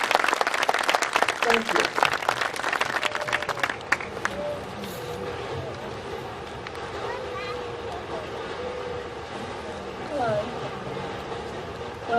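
Audience applause at a 2012 R-CCC college graduation ceremony, loud dense clapping for the first few seconds that fades away into a quieter hall with a voice speaking briefly afterward.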